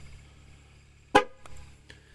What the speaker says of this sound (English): Hold it down until it honks.